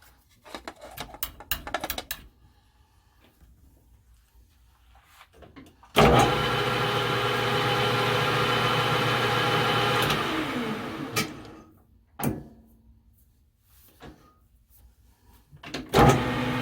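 A drill whirs steadily for about four seconds as a center drill cuts a starting divot in a metal spacer pin for a heavy-duty knurling tool, with short clicks and handling noises before and after.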